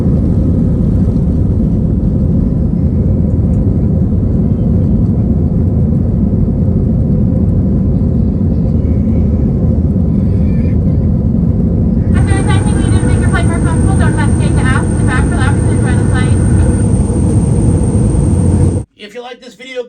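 Inside a JetBlue airliner cabin in flight, a loud, dense, continuous engine rumble and roar fills the space, joined midway by a steady high tone and faint chatter, ending abruptly.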